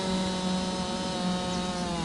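Chainsaw cutting a tree in the video game Farming Simulator 19, a steady high-pitched engine whine held at constant revs throughout, close and continuous with no talking.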